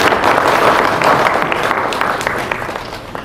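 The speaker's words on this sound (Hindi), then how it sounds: "जोरदार तालियों से स्वागत करें।" An audience at a book launch event applauds steadily to welcome a guest, a dense, even wash of clapping from start to finish that fades slightly toward the end.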